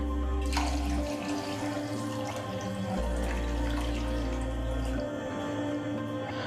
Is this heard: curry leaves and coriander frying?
no